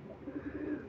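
Low, soft cooing from pigeons bred from long-kept breeding hens, a run of repeated rolling coos close by with no talk over them.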